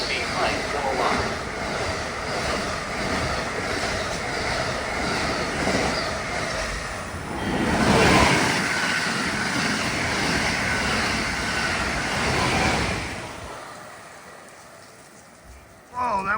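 An Amtrak Acela train rushes past a station platform in a sustained, loud hiss-like roar that swells in the middle and drops away near the end.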